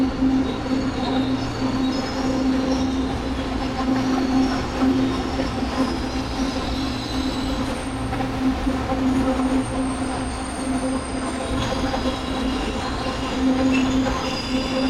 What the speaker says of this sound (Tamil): இதான் நம்ம ஏற போகிற ட்ரெயின்.